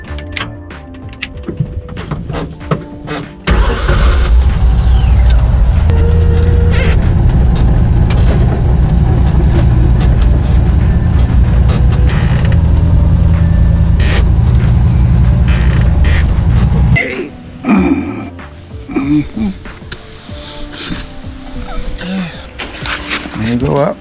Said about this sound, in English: now I got to pull the car onto the lift